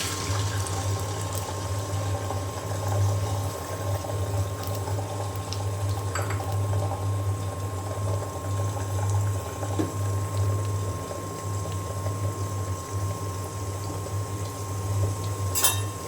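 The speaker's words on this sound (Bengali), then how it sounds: "তেল গরম হয়ে গিয়েছে, আমি এখন ডিম দিয়ে দিলাম।" An egg fries in hot oil with a steady, continuous sizzle and hiss that carries evenly throughout, over a low constant hum and a few faint clicks.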